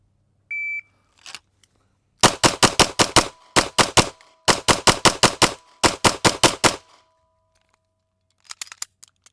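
Rapid pistol shots fired at a target from seven yards, about twenty sharp cracks in tight strings of five or six with brief pauses between, loud and close, followed by a few faint clicks and handling noises.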